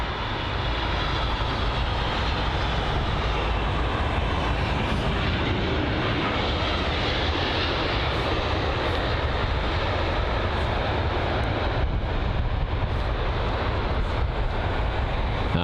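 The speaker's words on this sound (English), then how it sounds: "A319 arriving from Zurich." An Airbus A319 arriving from Zurich lands at London Heathrow, its jet engines producing a loud, steady, broadband roar that persists throughout.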